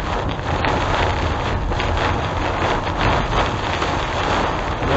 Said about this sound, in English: I think it's hail